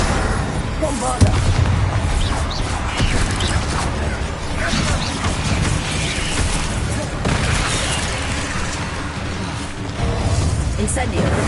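Explosive spell blasts from Hogwarts Legacy combat, a dense continuous barrage of booms and crackling impacts with game effects layered throughout, steady and loud, with a player's voice calling out spell names over it.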